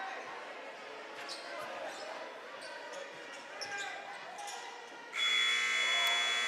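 A loud, sustained buzzer at the end of the first quarter of a varsity high school basketball game in a gym, sounding abruptly in the last second and holding steady over the crowd noise that came before it.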